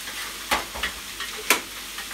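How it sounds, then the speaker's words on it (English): Pasta dropped into a pan with a little water hisses steadily, a close, continuous sizzle broken by two sharp crackling bursts of spattering, with no talk over it. "So you start hearing that sizzle."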